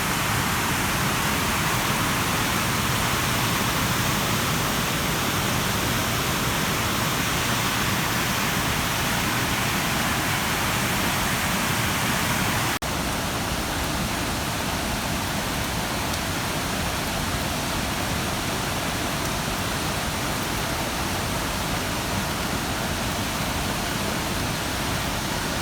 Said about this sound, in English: This is the waterfalls.